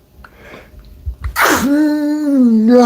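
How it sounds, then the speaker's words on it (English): A single loud, close human sneeze bursts out after a short breathy intake, then trails into a sustained vocal sound lasting over a second. "have to sneeze."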